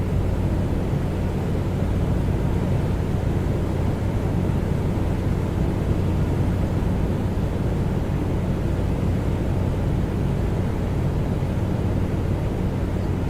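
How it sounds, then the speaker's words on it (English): Steady broadband rush of wind noise inside a Comanche 250 cockpit in the flight simulator MSFS2024, with a low engine drone underneath, loud and unchanging throughout. "I love how we can hear all the wind noise."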